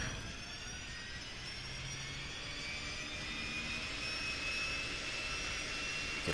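In the FSX flight simulator, a Real Air Duke Turbine sits with its turbine engine running, a faint, steady whine with a gradually rising high tone over a low rumble, heard from outside the aircraft.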